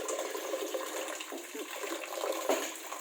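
Black rice being rinsed under running tap water while cooking, a steady close rush of flowing, splashing water with no pauses.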